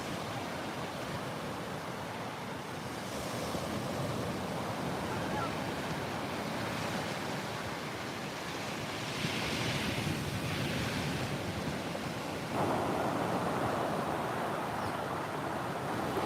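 Ocean waves wash steadily onto a beach in a continuous, broad roar mixed with wind buffeting the microphone, fairly faint and unbroken for the whole stretch, with no clear voices.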